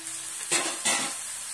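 Chopped onion sautéing in hot oil with salt, turmeric and chili powder for Indian egg bhurji, giving a steady close sizzle that swells into two louder bursts as the pan is stirred.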